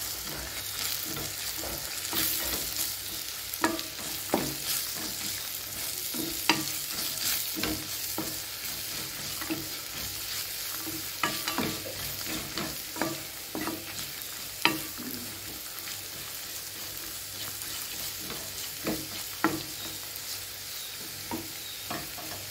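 Chilli powder being sautéed and stirred in a pan on low heat for a tamarind-based dried-berry curry, with a steady close sizzle and frequent scraping stir strokes throughout, and no talking.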